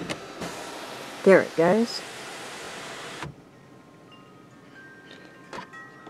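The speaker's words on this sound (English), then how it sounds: "It has the sunroof." A Kia Forte S sunroof motor hums steadily for a few seconds and then stops abruptly, with someone speaking briefly over it inside the car and a couple of faint clicks in the quiet afterward.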